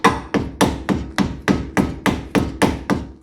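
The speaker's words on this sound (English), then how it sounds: "Push it into place, hammer it in, make sure it's flush with your wheel bearing." Eight sharp metallic hammer strikes ring out in a steady rhythm, each blow followed by a brief ringing decay, as a nut cap is hammered flush onto a Ford Mustang front wheel bearing.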